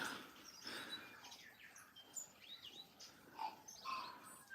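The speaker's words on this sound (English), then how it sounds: "Above us we have korimako, a green bird calling in the treetops." Korimako, the green New Zealand bellbird, calls from the treetops in native bush at Orokonui: faint, scattered chirps and liquid phrases from a distance, layered over soft ambient birdsong with no talk.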